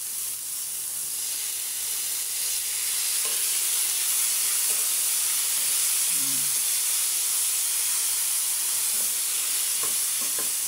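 Soy sauce hits a hot pan of sautéed pechay greens, producing a loud, continuous sizzling hiss with steam and a few faint stirring knocks underneath.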